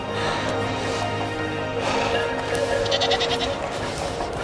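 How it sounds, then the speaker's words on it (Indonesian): A herd of goats bleats along a Karakoram mountain trail, several overlapping wavering cries, fairly close, above a steady background hiss of wind or movement. "Lihat segerombolan kambing."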